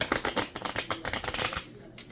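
A deck of playing cards is shuffled by hand, giving a quick run of crisp, rhythmic riffling bursts close by that trail off after about two seconds.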